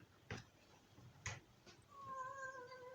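A cat meows with a drawn-out, wavering call near the end, preceded by a few short thumps or ticks, fairly close and moderately loud in a quiet room.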